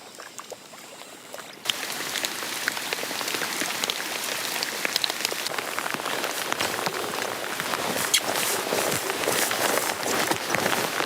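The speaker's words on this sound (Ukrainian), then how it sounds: "зараз просто влупе шалений дощ" Heavy rain pours down during a summer perch fishing trip, a dense, steady hiss of drops that swells in suddenly after a quiet moment and stays loud and close, with scattered louder patters.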